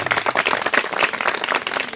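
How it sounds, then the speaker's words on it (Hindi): An audience at an outdoor environmental school session in a mixed forest claps warmly for a speaker, a close, dense burst of hand claps lasting a couple of seconds without talk. "इसलिए सर के लिए जोरदार तालियां"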